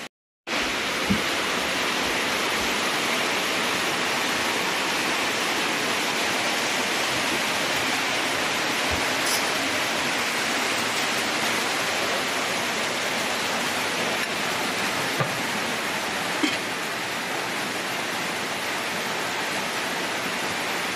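Steady rain falls outdoors in a continuous, even hiss with no breaks, loud and close, with a few faint knocks and taps under it.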